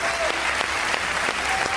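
A crowd at the final of a televised competition show breaks into loud, dense applause, continuous clapping over a brief moment with a voice faintly underneath.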